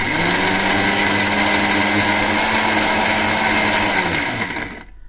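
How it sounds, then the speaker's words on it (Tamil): A mixer grinder whirs at high speed grinding Oreo biscuits coarsely, a loud, close, steady whine with buzzing motor tone that holds for several seconds, then cuts off and spins down at the end. "இப்போ வந்து இந்த ஓரியோ வந்து நம்ம அரைச்சி எடுத்துட்டோம்."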